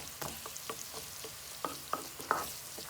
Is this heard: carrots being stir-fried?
yes